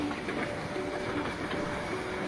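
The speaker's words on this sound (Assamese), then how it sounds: "toy train" The Darjeeling toy train runs at Batasia Loop, giving a continuous, steady rumble of rail noise with faint rhythmic rattling, heard close and unbroken throughout.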